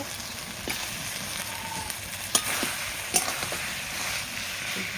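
Fried katla fish pieces hiss in a hot pan of gravy as they are stirred, a soft, steady sizzle broken by a couple of sharp scraping knocks from the spatula.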